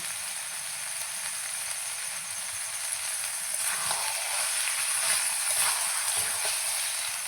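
Meat being fried and stirred in a pan for a Bengali curry, giving a steady bright sizzle with crackling pops that grows a little louder and busier about halfway through.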